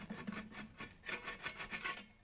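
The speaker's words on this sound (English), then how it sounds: "I'm just going to give this a rub on the side." An aluminium angle edge being rubbed to remove a burr, a close, quiet run of rhythmic rasping strokes, about seven or eight in quick succession.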